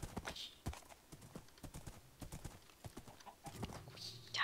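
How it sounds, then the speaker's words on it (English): Horse hooves clopping in the Minecraft video game, a rapid irregular series of hollow clip-clop hits at a trot, close and fairly quiet, with a brief neigh-like sound near the start and end. "I'm on a horse."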